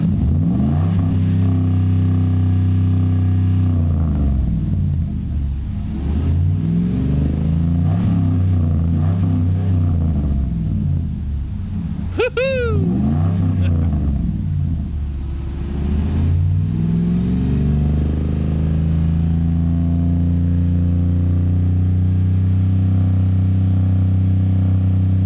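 Car fitted with a Magnaflow dual exhaust revs up hard from idle to around 3,800 RPM, its loud, deep engine note rising and falling through several sustained revs, close to the pipes with no talking.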